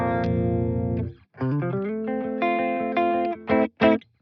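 Distorted electric guitar played through an Aurora DSP Kobraa plugin modelling the Framus Cobra amp: a sustained chord rings out, then a run of shifting single notes and chords ends in two sharp stabs, loud and alone.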